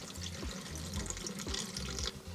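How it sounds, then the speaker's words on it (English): Fixer solution is poured into a film developing tank while processing Kodachrome film, giving a continuous close splashing, gurgling pour with no talking. "I'll start my timer and pour in the fixer."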